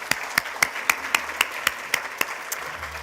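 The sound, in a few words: audience applauding at school sports awards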